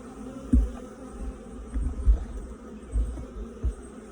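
Honeybees at an open hive during an inspection, a low droning hum with several louder buzzes as individual bees pass near, fairly close and steady with no talking.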